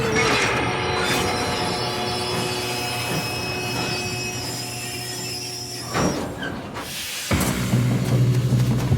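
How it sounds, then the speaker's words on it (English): Moving train in the Red Dead Redemption 2 video game, a steady heavy rumble with constant tonal hum and rattling that swells near the end with a brief hiss, loud and continuous, no talk. "We have to stop this train."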